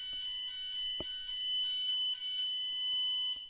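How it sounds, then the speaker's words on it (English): During a test, a fire alarm sounds as a steady, shrill electronic tone that holds for the whole stretch, with a few faint clicks and bumps in the room and no talk. "And that was the alarm."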